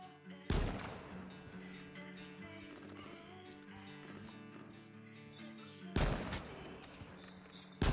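Sniper rifle shots in the video game H1Z1, two sharp, loud cracks several seconds apart with a third starting at the very end, over a steady layer of game music and ambience.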